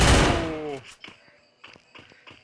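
Gunfire in the Free Fire video game, Bermuda map, arriving as a few short sharp bursts after a loud opening sound.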